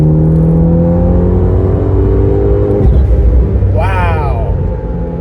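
A tuned Abarth 500 with a big turbo pulls hard in third gear around 4,000 RPM, a loud, steady engine drone heard from inside the car that climbs in pitch toward the end.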